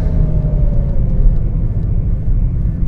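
Aston Martin DBX 707 SUV accelerating hard, a loud, deep engine rumble from inside the cabin with a tone that slides gradually over a few seconds, no talking.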